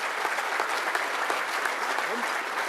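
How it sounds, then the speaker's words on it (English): A crowd applauds at a law enforcement officer awards ceremony, a dense, continuous roar of clapping from a large audience, loud and even throughout with faint voices mixed in. "please, another round of applause as they now accept their award"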